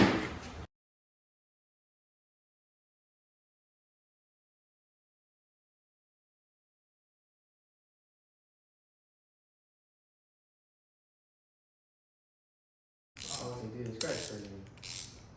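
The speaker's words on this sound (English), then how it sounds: "So I'll tighten that down and then tighten that guy down" A ratchet tightening the mounting bolts of a Baja Designs S2 fog light on a vehicle: a short burst of clicking at the start, then silence, then a few close, quick rounds of ratcheting clicks near the end.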